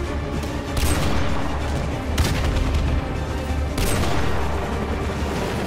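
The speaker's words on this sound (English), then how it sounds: "We are taking fire at the Washington Monument." Heavy gunfire in a Modern Warfare 2 Campaign Remastered battle at the Washington Monument, with sustained loud bursts and several sharp volleys cutting through a dense, continuous barrage.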